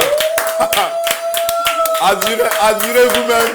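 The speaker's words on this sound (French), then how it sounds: "que je vous demande d'applaudir très très fort" Loud applause with clapping hands, a sustained tone and a voice speaking over it, the clapping continuing steadily throughout.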